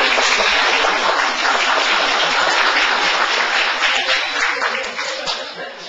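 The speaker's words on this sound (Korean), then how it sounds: "야, 오랜만에 박수 한번 받았다." Lecture-hall audience clapping in a dense, steady burst of applause that holds for several seconds and then begins to thin and fade toward the end.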